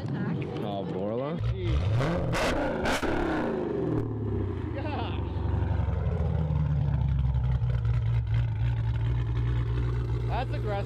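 A car engine with a Borla ATAK aftermarket exhaust rumbles deep and throaty, revving up loudly and then holding a steady growl, with people talking over it.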